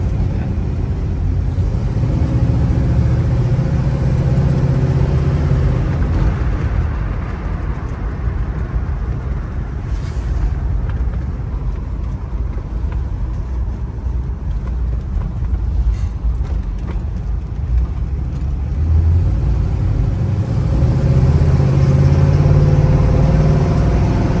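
A 1968 Oldsmobile Cutlass Supreme convertible with overdrive, frame-off restored, driving along a road with a steady engine drone and road rumble that swells as it accelerates, heard from inside the car with no talk.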